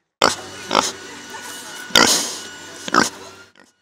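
A pig grunts several times close by, short rough bursts separated by brief pauses.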